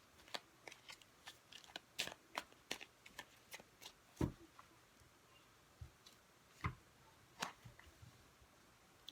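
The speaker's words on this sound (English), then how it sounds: "You saw how I shuffled that deck." A deck of tarot cards being shuffled up close, giving a run of crisp, irregular riffling clicks and snaps at varied intervals, with a few louder slaps in between and no talk.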